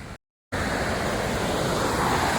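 The large, deep Napne waterfall in Sindhudurg roars with a steady, dense rush of falling water, loud and unbroken after a brief dropout of silence at the start.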